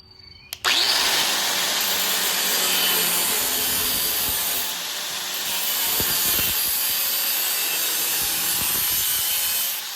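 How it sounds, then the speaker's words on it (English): An abrasive cutoff wheel slices into a car's rear tail panel on a Firebird or Camaro, starting abruptly and holding a loud, steady high-pitched grinding whine with slight dips for about nine seconds. "So I think I'm just gonna take the cutoff wheel, give this thing a little slice."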